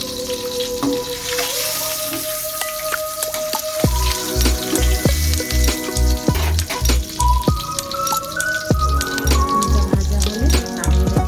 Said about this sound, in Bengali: তেল গরম হয়ে গেছে, আমি ডিমগুলো ভেজে নেব।